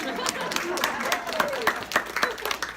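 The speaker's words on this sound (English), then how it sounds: "go ahead and give him a round of applause" A class audience at City of Palms Chiropractic applauds a guest speaker with close, uneven clapping, while a voice talks over it.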